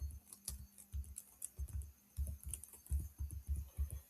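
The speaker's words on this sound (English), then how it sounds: "So I'll type Brave browser," Typing on a computer keyboard: a quick, irregular run of close, crisp key clicks with short pauses, played alone in a quiet room.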